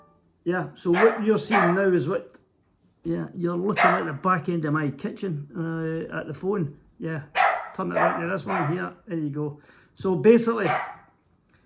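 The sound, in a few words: dog barking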